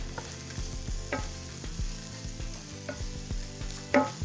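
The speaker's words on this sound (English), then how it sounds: "Then we're going to throw about a tablespoon of butter in there." Broccoli frying in hot butter and olive oil in a pan, a constant close sizzle broken by repeated scraping and knocking as it is stirred, with a louder clatter near the end.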